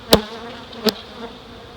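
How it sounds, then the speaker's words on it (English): Honey bees settled into a new hive give a faint, steady low buzz, broken by two brief knocks, with no talking. "these bees have settled down, they're going to work"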